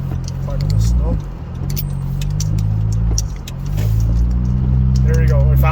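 A car on Bridgestone Weatherpeak tires, without four-wheel or all-wheel drive, ploughs through 15 to 20 cm of thick snow with a loud low engine drone, rumble and crunching scrapes, while someone talks over it.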